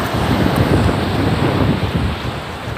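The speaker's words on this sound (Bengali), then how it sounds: "এই যে দেখতে পাচ্ছেন বিশাল সমুদ্র" Sea waves rolling onto Pattaya beach in Thailand, with steady wind buffeting the microphone; a continuous, loud broadband wash of surf and wind noise with no talking.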